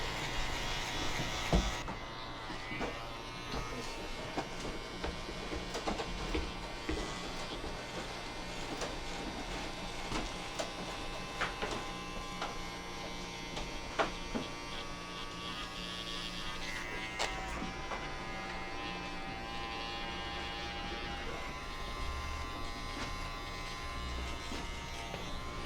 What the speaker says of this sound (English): we go in with just the Andis cordless outliner